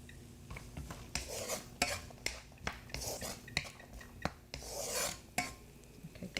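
Green beans and carrots being stir-fried over high heat in butter, with a spatula scraping and clattering against the pan in irregular rasping strokes and sharp knocks, close and moderately loud, no talking.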